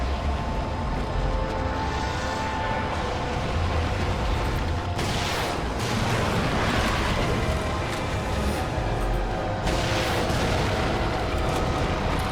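Gunfire in The Evil Within horror game booms as a dense, heavy barrage, with harsher blasts bursting out twice over a constant rumbling background.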